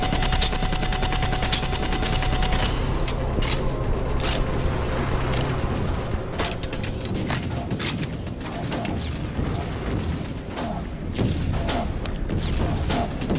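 Heavy machine gun fire in the shooter game Dust 514, a dense, continuous stream of loud shots at a fairly slow rate with sharp cracks and impacts running through the whole stretch.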